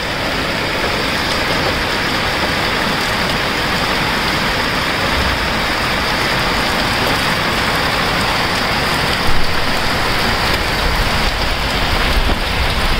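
Steady, heavy rain pours down in a dense, continuous hiss with no breaks, loud and close, with no voices.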